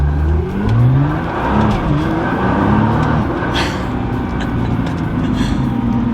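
A stock Nissan GT-R pulls away from a stoplight under light throttle, its engine note climbing through rising gear sweeps, loud and close from inside the car, with road and tire roar underneath and no talking.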